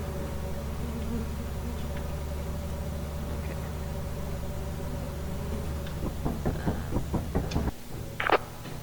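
Bees drone in a steady, continuous buzz around a beehive in a video game, moderately loud, with a few scattered clicks and thumps near the end.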